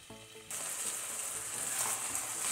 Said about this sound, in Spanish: Vamos agregando el pollo.